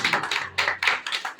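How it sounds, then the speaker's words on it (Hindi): A church congregation claps in thanks, a short run of quick rhythmic hand claps at moderate distance with no voices. "ताली बजा के परमेश्वर का धन्यवाद करें।"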